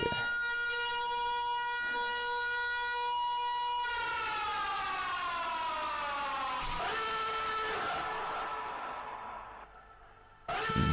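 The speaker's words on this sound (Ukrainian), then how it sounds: "Спочатку він схожий на звичайну повітряну тривогу." A loud civil defense air raid siren holds a steady wailing tone, then slowly winds down in pitch, dropping off sharply near the end.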